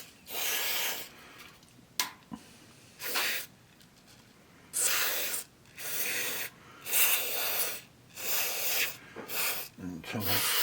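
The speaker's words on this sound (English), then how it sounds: "because I'm spraying belts as well" Repeated bursts of spray hissing as cleaner is sprayed onto the rubber belts of a vintage VHS DVD combo player, about ten short blasts with brief pauses between, close and fairly loud.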